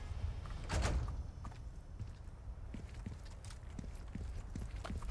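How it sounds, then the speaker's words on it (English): Heavy, thudding footsteps of a giant enemy in the video game Resident Evil 4 Remake, a loud impact near the start followed by repeated dull steps at a steady, plodding rhythm. "I can hear his footsteps, man."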